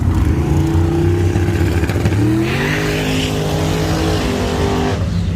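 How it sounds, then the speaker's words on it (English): Turbocharged VW Rabbit with a wide body kit and a 2.0-liter ABA engine, its steady engine drone rising in pitch as it accelerates, loud and close, then dropping off near the end. "This is my buddy Jake's turbocharged Rabbit."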